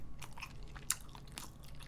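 Close chewing of a convenience-store pork loin donkatsu lunch box with a slightly soggy breaded crust, soft irregular crunches and mouth sounds with one sharper bite near the middle, no talking.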